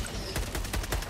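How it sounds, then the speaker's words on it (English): A shotgun fires in the video game Helldivers 2, a dense run of rapid booming blasts over continuous loud battle noise, with no talk during the burst. "Is that the shotgun?"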